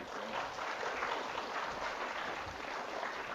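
Audience applauding students after a distance learning presentation, a steady, moderately loud wash of clapping sustained throughout with no talk over it.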